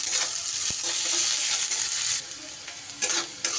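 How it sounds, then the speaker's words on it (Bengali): Chopped onion, garlic and green chillies frying in a pan with a bright, steady sizzle and stirring scrapes, close and loud, easing slightly toward the end with a few sharper spits. "পেঁয়াজ আর রসুন একটু ভাজা ভাজা হয়ে গেলে এইবার ঝালের জন্য এখানে আমি দিয়ে দিচ্ছি বন্ধুরা 2টো কুচনো কাঁচা লঙ্কা"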